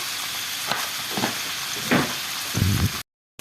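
Oil sizzles steadily in a pan as chicken sautés, with a few scraping stirs of a utensil, close and fairly loud, ending abruptly in silence.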